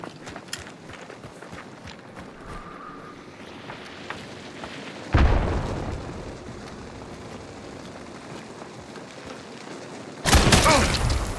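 A frag grenade detonates in the shooter game Hunt: Showdown, a sudden loud burst with a rumbling decay, followed seconds later by a second heavy blast, amid earlier footsteps and scattered gunfire.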